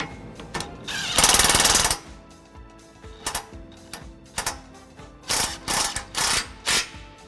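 Torque wrench tightening front-mount trailer hitch bolts on a 2011 Ram 1500, heard as bursts of rapid metallic ratcheting clicks, one long loud run followed by several shorter spaced bursts, no talking.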